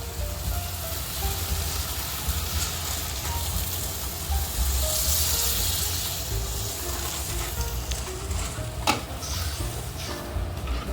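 Coconut milk goes into sizzling curry paste in a wok for a fish head curry, producing a steady, fairly quiet frying sizzle with stirring scrapes and a brief sharp clatter near the end.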